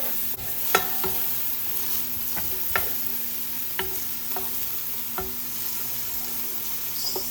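Shallots sizzle in olive oil in a hot pan: a steady, close frying hiss broken by regular sharp clicks of a utensil stirring, with no voices.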